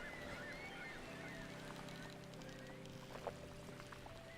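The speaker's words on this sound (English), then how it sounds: "I just boosted it so we had some sea ambience and seagulls for the intro." Sea ambience with seagulls in the video game Ships At Sea, a steady low wash of wind and water with faint, distant gull cries and honks drifting over it, quiet and continuous.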